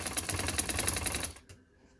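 A sewing machine stitching a silk dupatta corner gives a fast, close, rattling run of stitches for over a second, then stops abruptly and leaves near silence.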